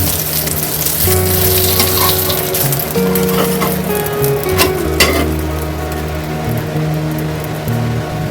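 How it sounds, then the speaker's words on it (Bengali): An aloo kulcha frying in ghee on a pan over high gas flame, a loud, steady close sizzle with faint crackles throughout and a few brief clinks, no talking. "আমরা কুলচাটাকে ঘি দিয়ে সুন্দর করে ভেজে নিয়েছি।"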